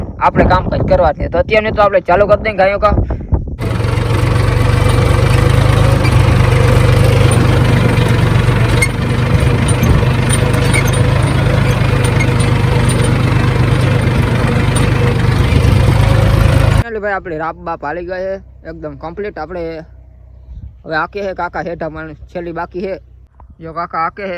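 A tractor engine idles steadily at close range on a farm for several seconds, a constant low rumble with slight knocking vibration, while people talk before and after it.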